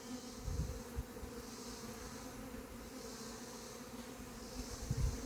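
A colony of honey bees buzzes steadily around a nearly honey-empty hive, forming a dense, continuous drone close to the listener, with a few soft knocks and handling noises now and then.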